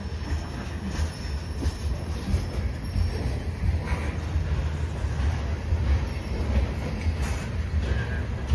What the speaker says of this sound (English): got L436 backing up here, coming east